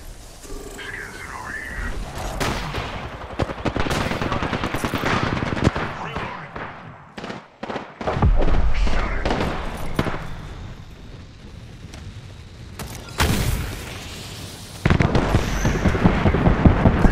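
Gunfire in the shooter video game Apex Legends, rapid bursts of shots and booming blasts with dense automatic fire, loud and continuous under players talking.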